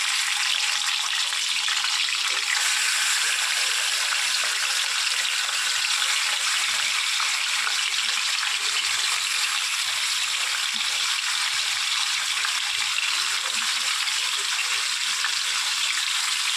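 Pieces of chicken marinated with salt and lemon fry in a pan, giving a loud, steady hiss and crackle of hot oil that runs continuously throughout with little variation.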